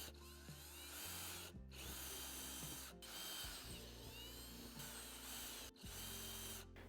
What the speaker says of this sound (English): I'm just going to use a 1/4 inch drill bit to drill these holes out.